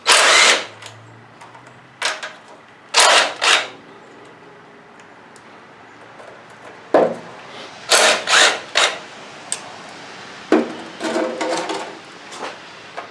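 A power tool, likely an impact driver or drill, spins out 10mm bolts on a Kawasaki FC420V small engine, with loud close bursts of whirring starting and stopping repeatedly between short pauses.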